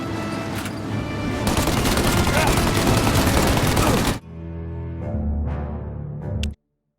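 A shootout in Mafia: Definitive Edition, with loud, dense, continuous gunfire that fills the first four seconds, then stops abruptly and leaves a quieter tail of scattered shots and echoes before cutting to silence.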